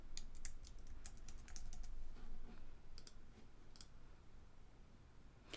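A computer keyboard clicks as a password is typed, with quick bursts of close, fairly faint keystrokes separated by short pauses over a low room hum and no speech.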